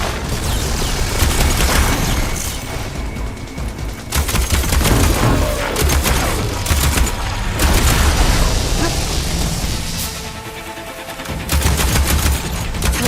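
A heavy weapon barrage in the video game Horizon Forbidden West, with dense, continuous bursts of gunfire and booming impacts that pound on loudly for several seconds, dipping briefly before surging again.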